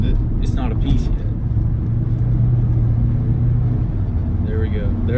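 A 2005 Volvo S60 sedan's engine gives a steady, loud, close low rumble with a rising drone through the middle, heard from inside the car while a voice talks faintly.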